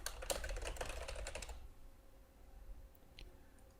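Rapid typing of a login email address on a computer keyboard, with a dense run of close key clicks for about a second and a half that drops to near quiet, followed by a single faint tap.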